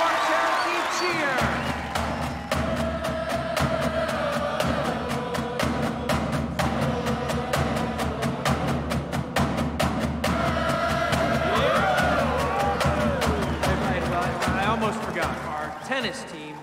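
Loud, dense school-assembly crowd cheering and clapping for the Cherokee football team, a steady roar of voices with rhythmic clapping sustained throughout, close and continuous.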